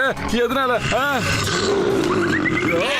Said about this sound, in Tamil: இப்ப அந்த புலியோட சத்தம் ரொம்ப பக்கத்துல இருந்து கேக்குற மாதிரியே இருக்கு.